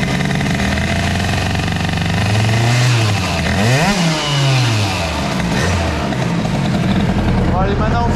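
A Bidalot RF 50 WR 50cc motorcycle engine buzzes loudly up close, rising and falling through a few light throttle blips with rapidly sweeping pitch, while someone talks over it.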